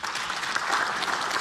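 Lawmakers applaud from their seats in the National Assembly plenary chamber during a party leader's address, a steady, dense wash of clapping from many hands throughout.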